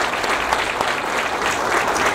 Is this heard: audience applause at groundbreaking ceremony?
yes